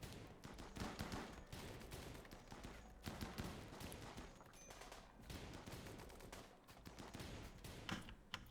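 Colonists shooting in the Rimworld video game, a dense, continuous crackle of rapid small gunshots, faint and steady throughout.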